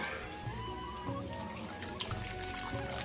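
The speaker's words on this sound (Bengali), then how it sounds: "এতে জল আছে বাদাম আর নারকেলের জল আছে এরই কিছুটা দিয়ে দেবো" Peanut and coconut water poured into a cooking dish in a home kitchen, a steady close trickle of liquid with a low running rumble and no talk.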